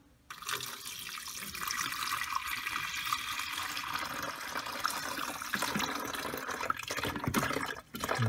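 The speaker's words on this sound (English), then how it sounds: "brew it with the water, pour some water in here" Tap water pours steadily into the reservoir of a Mr Coffee 12-cup programmable coffee maker, a continuous close hiss and splash that runs almost unbroken.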